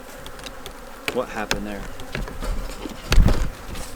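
Honey bees buzz steadily at a Kentucky hive being prepared for winter, a close, continuous drone with a few knocks and bumps, while a person talks briefly over it.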